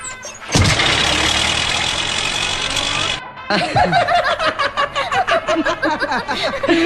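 A vehicle engine cranks and catches at close range, a loud steady roar for a few seconds, then cuts out before busy chatter and laughter from a crowd take over.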